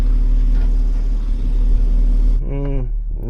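A BMW X3 M SUV crawls off-road over rough terrain, its engine a steady, loud, low rumble throughout, and a voice briefly speaks near the end.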